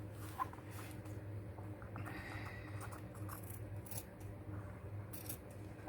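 Scissors cutting paper for a handmade spring journal: a few quiet, close snips and soft paper rustles over a low background hum, with no talking.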